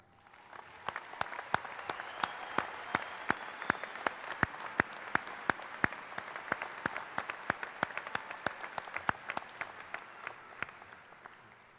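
Applause at a 2018 high school graduation ceremony for honor society members: steady, moderately distant crowd clapping, with a few sharp, close hand claps standing out above the wash.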